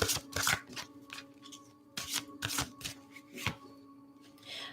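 Tarot cards are shuffled and drawn by hand in close, crisp bursts of riffling and slapping, with short pauses between the handling.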